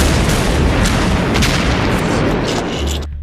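A loud, dense film explosion tears through as a character is blown apart, a sustained roaring blast lasting about three seconds before dropping off sharply.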